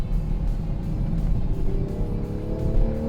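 A Toyota GR Supra engine roars and climbs steadily in pitch as it accelerates hard to 80 mph on the Nürburgring, loud and close, with constant road and wind rumble underneath.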